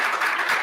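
An audience clapping at a university speaker's forum, a dense burst of applause swelling in waves, close and steady for under a second.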